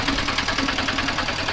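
A tractor engine runs close by with a loud, steady, rhythmic chugging throb and no gaps.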